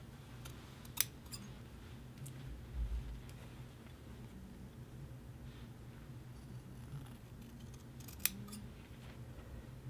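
Scissors trimming a shirt collar band along a basting line, quiet cutting with two sharp snips, one near the start and one near the end.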